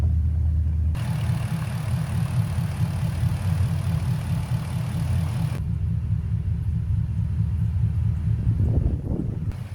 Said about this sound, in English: the engine sounded like it got louder then quieter